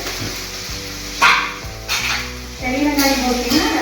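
Onions sauté in a pan for onion chutney, a steady close sizzle with stirring scrapes and spoon taps; a dog barks briefly in the background.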